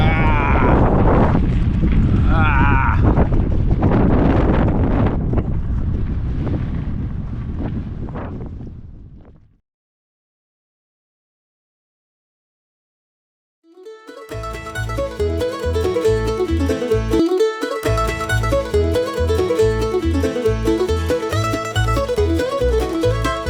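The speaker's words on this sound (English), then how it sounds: "And you can hear this wind pedaling into a crazy, crazy" Strong desert wind buffets the microphone while cycling, a loud, roaring rush of gusts that fades out to silence midway, after which music takes over.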